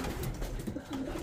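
A young racing pigeon from 2022 coos softly in a close, steady murmur of low throaty calls through the whole short stretch, with no talk over it.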